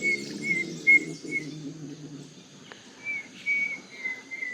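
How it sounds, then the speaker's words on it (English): Small forest birds in Ecuador give thin, high whistled calls, a few short repeated notes near and some farther off, over faint insect hum and a low murmur early on, with no talk. "we're spotting all kinds of little birds"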